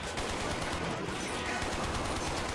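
Enemy gunfire in the video game 007: Quantum of Solace, a steady rattle of rapid shots like machine guns, fairly quiet and continuous with a faint hint of voices beneath.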